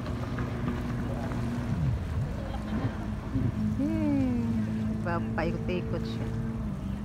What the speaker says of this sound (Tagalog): Yan, may nag-jet ski.